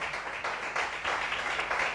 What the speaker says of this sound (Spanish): Le damos un aplauso a nuestro Señor